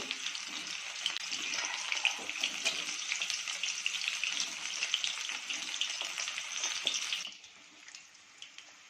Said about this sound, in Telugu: ఇలా మీడియం ఫ్లేమ్లో పెట్టుకొని ఫ్రై చేసుకుంటే లోన్ కూడా ముక్క ఉడికి చక్కగా వస్తుంది